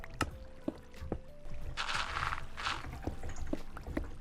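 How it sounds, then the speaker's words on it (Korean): Water flowing inside a Minecraft cave, a soft rushing wash swelling midway under regular clicky footstep taps, quiet and close, with no speech. "앞에 물소리"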